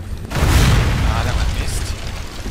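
A shock spell cast in Legend of Grimrock 2, a heavy booming burst swelling up after a quiet start and rumbling on at high level, with talk heard beneath it.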